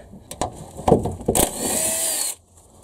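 A ratchet clicks in short bursts on bolts of a Honda Civic EF during engine-bay stripping, followed by a steady whirring run of a couple of seconds, close by with no talking.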